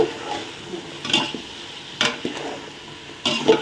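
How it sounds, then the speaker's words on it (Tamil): Vegetables being stirred as they fry in a pan for sambar rice, soft steady sizzle punctuated by several distinct spatula scrapes and turns, close up with no talk. "எல்லா பக்கமும் திரட்டி திரட்டி விடுங்க நல்லா வேகட்டும்"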